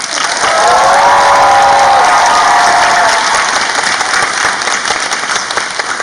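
Loud, sustained audience applause at a musical's curtain call for Marie Antoinette at an arts center, dense clapping and cheering filling the whole stretch with a brief sung or held tone rising over it early on.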